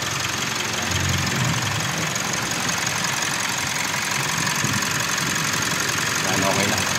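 The engine of a 2018 Mitsubishi Montero Sport, freshly cleaned intake manifold, EGR and turbo, runs at a steady idle up close, a continuous even drone with a faint knocking texture, while people talk quietly over it.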